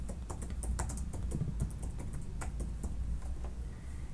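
Rapid typing on a computer keyboard while writing code, a close run of light, uneven key clicks with no voices.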